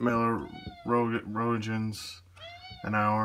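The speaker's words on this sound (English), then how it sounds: "Quiet. That's my cat." A house cat meows several times, loud and close, its drawn-out cries mixing with someone talking over it indoors.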